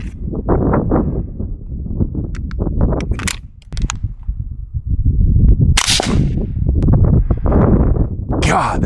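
FN Five-seven USG pistol fired during a shooting competition: sharp, loud reports in an uneven series, some spaced and some rapid, with people talking between shots.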